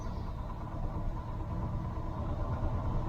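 A Jeep CJ-7 engine idles steadily at about 1,000 RPM, a continuous low rumble holding even and close throughout with no talk over it.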